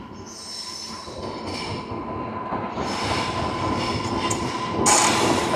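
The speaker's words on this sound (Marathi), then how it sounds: "तर मित्रांनो, आपली ट्रेन आलेली आहे।" Rani Chennamma Express rolling into Ugar railway station, a steady loud rumble of rail cars with wheel squeal and a sustained tone, growing slightly louder toward the end, no talking.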